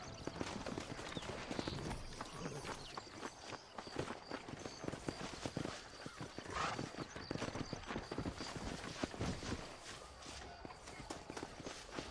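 Rapid hoof clip-clop of a horse in motion in the video game Red Dead Redemption, steady and continuous, set against a busy background with faint voices.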